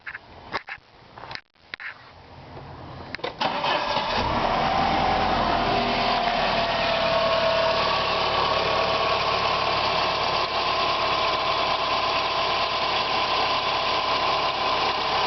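A few clunks and a brief crank, then a car engine catches and settles into a steady, close idle that continues to the end.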